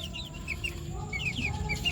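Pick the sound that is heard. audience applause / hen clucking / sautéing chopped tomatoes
hen clucking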